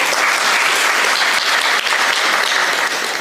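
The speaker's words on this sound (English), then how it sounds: "Clap for yourselves." A crowd at a bank's omni-channel and wearables launch event in a hotel claps loudly and continuously, with thick, sustained applause filling the room.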